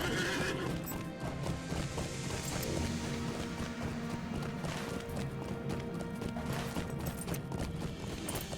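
A horse gallops in Lord of the Rings Online as the rider crosses the Angmar region. Rapid, steady hoofbeats run throughout with a whinny, while game ambience plays beneath.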